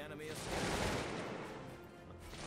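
A musket volley crackles from massed infantry in the strategy game Cossacks 2, a dense, rolling burst of shots at moderate distance, swelling and then fading, with a voice talking over it.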